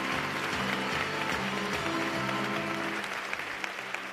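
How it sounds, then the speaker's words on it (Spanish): A crowd applauds at a street festival concert during the Fiestas de la Virgen de San Lorenzo in Valladolid, with clapping spread across the whole stretch while a band's bass and brass-backed music plays steadily underneath. "Un fuerte aplauso para ellos también."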